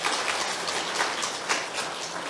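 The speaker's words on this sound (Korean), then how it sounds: "우리 큰 박수 보내드릴까요?" A church congregation claps steadily, a dense, even patter of many hands that stays at a constant level throughout, with no voices over it.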